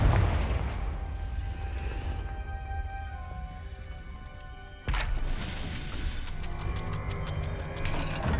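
Confringo blasting spell explosion in the video game Hogwarts Legacy, a sudden loud crack and burst of noise after a rumbling stretch, followed by a crackling, sizzling tail, with no talking.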